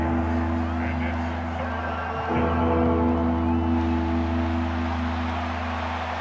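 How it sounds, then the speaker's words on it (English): Crowd noise at an NFL preseason football game in a stadium, a sustained roar that swells slightly partway through, heard beneath steady broadcast hum with no clear talk. "this crowd making it hard to hear"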